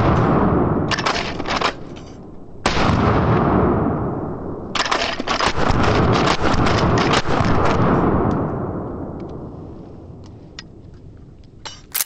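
A 12 gauge slam-fire shotgun blasts a rapid series of loud, close shots, with sharp cracks clustered in quick bursts and heavy booming echoes rolling and decaying between them over about twelve seconds, without talk.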